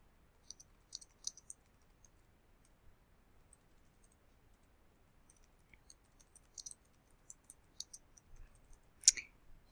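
Faint, sparse mouse clicks while coding in Scratch 3.0, coming in small scattered clusters over quiet room tone, with one sharper click near the end.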